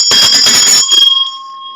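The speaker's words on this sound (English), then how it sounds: "We're going to ring the bell for that one." A bell rung in a spiritual botanica shop sounds with a bright, clattering burst of strikes, then settles into a clear sustained ring that slowly fades alone.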